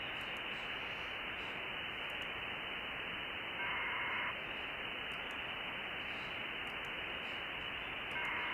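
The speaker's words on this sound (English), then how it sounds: "You'll hear the hiss stop." Constant loud radio static hiss fills the whole stretch, with faint tone bursts appearing briefly twice.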